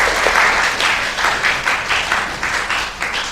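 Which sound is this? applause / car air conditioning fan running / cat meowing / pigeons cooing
applause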